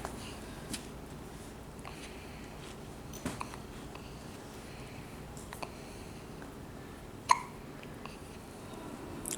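Soft hiccups sound in a quiet room: a few faint small ones, then one sharp, distinct hiccup near the end, set against low background hiss.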